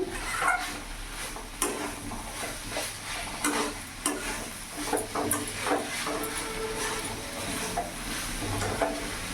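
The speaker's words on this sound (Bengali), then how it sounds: "ভালো করে নাড়াচাড়া করে নেব। গ্যাসের ফ্লেমটা একটু বাড়িয়ে দিলাম।" A spatula stirs banana flower and shrimp curry in a pan over a gas flame, making repeated scraping strokes over a constant frying sizzle. The sound is close and moderately quiet, with no speech.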